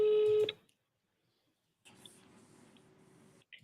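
A telephone sounds a short burst of dialing tones, followed by silence and then a faint, steady line tone with low background noise while the call connects.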